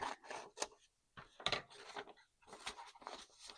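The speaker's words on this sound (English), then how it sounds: "I'm just going to cut here." Scissors cut paper for an altered book project, making a few short close snips and rustles with brief pauses between them.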